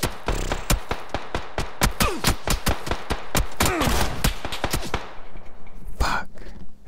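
Rapid bursts of gunfire from the video game PUBG on Xbox Series S, dense sharp shots in quick succession for about five seconds, followed by a lone later shot and fading echo.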